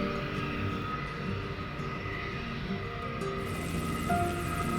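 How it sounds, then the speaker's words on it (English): A Dornier aircraft at a Car Nicobar station gives a steady, moderately distant engine roar that builds slightly toward the end, with no voices. "with a second Dornier ready to take off"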